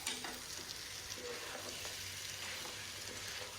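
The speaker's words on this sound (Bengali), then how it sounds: "আর এদিকে আমি ডিমটা ভেজে নিচ্ছি" An egg fries in a pan, a soft, quiet, steady sizzle with faint crackles heard close up and no speech.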